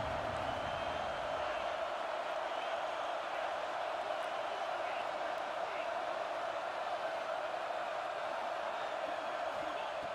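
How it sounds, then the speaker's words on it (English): A stadium crowd roars steadily during a red-zone defensive stand in a college football video game, a dense, continuous wash of noise with no clear breaks, and a voice is faintly heard beneath it. "the crowd coming to life here, trying to help this defense down in the red zone"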